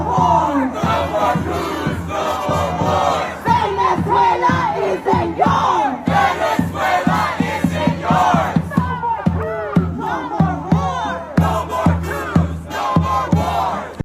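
A large protest crowd at an ICE protest in Boston shouts loudly and close by, with voices rising and falling in repeated rhythmic bursts, like chanting, throughout.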